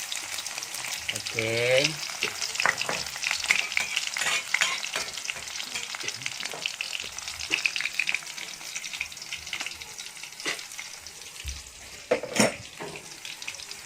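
Ingredients are tipped into a hot pan for a simple home-cooked dish and hiss in a loud, steady fry, stirred with scraping clicks throughout; a person says a brief word near the start.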